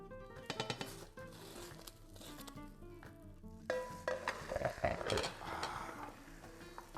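Spanish tortilla of egg sizzling in a frying pan as it is flipped and cooked, steady frying hiss broken by scraping stirs and clanks of pan and utensil, growing busier toward the end, no talk.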